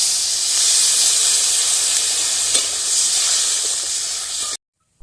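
Water poured into a hot pan of soybean chunks cooking with salt, giving a loud, steady, close hiss and sizzle that runs for about four and a half seconds and then cuts off abruptly.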